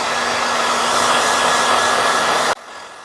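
A hair dryer blows steadily and loudly on a shirt hanging on a hanger, a constant close whooshing roar that cuts off abruptly near the end.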